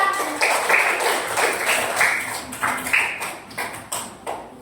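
Schoolchildren in a classroom clap for a classmate, a loud close burst of many small hands that breaks into rhythmic, evenly spaced patterned claps, like a group clapping routine, with no one talking.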